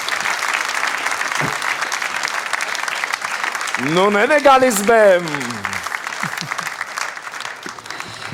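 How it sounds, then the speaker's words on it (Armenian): Studio audience applauding during a folk-singing TV contest, steady dense clapping throughout with a host speaking over it and a brief sung or musical phrase rising in the middle. "Ծափարեք։"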